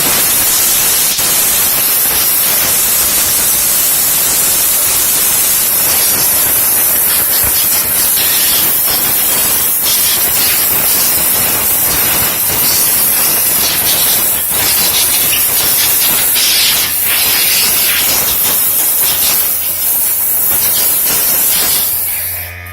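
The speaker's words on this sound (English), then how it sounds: "pressure hose for your RCs" Pressure hose spraying dust off an RC car, a loud continuous hissing rush of water and air that holds steady throughout before cutting off at the very end.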